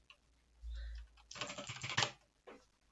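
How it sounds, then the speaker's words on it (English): Typing on a computer keyboard while writing Python code, a dense burst of quick clicking keystrokes in the middle, close and fairly loud, with a low hum before it and a stray tap near the end. "If I start typing here"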